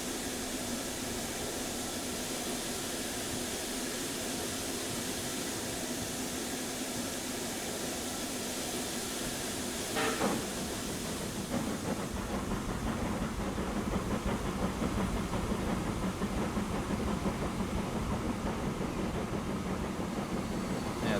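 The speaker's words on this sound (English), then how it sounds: "Passenger train has arrived." Passenger train arriving at a station in the transport simulation game Transport Fever 2, a steady rolling rumble with hiss that brightens as the train pulls in, continuous and fairly loud with no talk.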